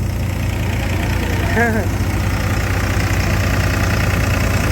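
A tractor engine at a tractor pulling contest runs in a steady, loud low drone that holds unchanged from start to finish, with no clear voices over it.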